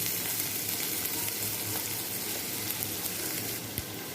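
Onions and chillies fry in oil in a pan on a stove, giving a soft, steady hiss of sizzling that holds evenly throughout at low volume.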